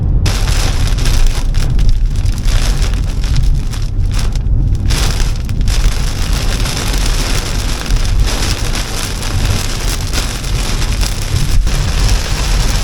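Heavy rain pounds steadily on a moving electric car during a road trip, a loud dense drumming that continues without a break throughout.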